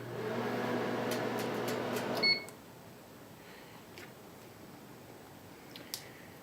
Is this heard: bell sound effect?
no